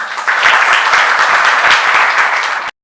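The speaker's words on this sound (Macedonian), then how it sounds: "Ве молам да го поздравиме со голема аплауз." Applause from an audience at a 25th-anniversary celebration event, a loud, dense burst of many hands clapping that holds steady for under three seconds, then cuts off abruptly.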